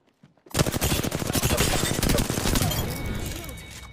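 Video game gunfire bursts in after a short quiet moment: loud, dense automatic fire with many fast cracks that tails off into a fading rumble.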